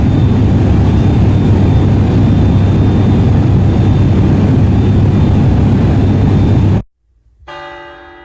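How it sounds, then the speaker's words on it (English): A loud, steady roar of an airplane engine runs for several seconds, then cuts off abruptly and is followed by a quiet, sustained chime-like tone. "We are almost in the town identified by Askell. It's called Snowed Inn. We should be landing soon."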